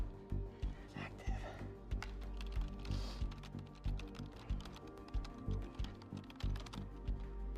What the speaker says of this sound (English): Is he still typing into you while this thing is popped up?